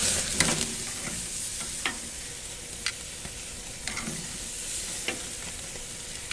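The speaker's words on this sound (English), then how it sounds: "I just took the flank steak out of the smoker and now just threw it over some open flames to give it a nice charcoal" Smoked flank steak sizzles over open charcoal flames, a soft steady crackle and hiss broken by sharp pops and snaps, close but fairly quiet, with no voices.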